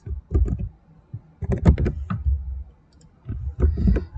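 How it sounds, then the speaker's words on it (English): Computer keyboard typing in short clustered bursts of close clicks separated by brief pauses, no voices. "we're going to type in a little story here"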